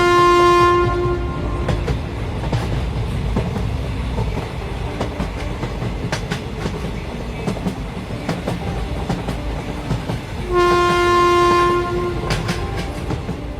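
A cartoon train rolling along with steady rumbling clickety-clack, its horn blaring twice, once at the start and again near the end, loud and close.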